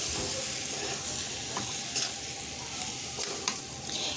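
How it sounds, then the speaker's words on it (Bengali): Vegetable samosa filling with a boiled egg and garam masala is stirred in a hot pan, a steady close sizzle with a few spatula scrapes and taps. "দিয়ে দিচ্ছি উপর থেকে গরম মশলা এখন আমি ভালোভাবে মিশেলে একেবারে রেডি"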